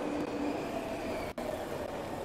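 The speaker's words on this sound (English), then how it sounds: "How is there even a working train?" A working train runs steadily in Splatoon 2's Octo Expansion, a continuous rumbling rail noise with wheel hiss and a faint tone, briefly dipping once, with no talking.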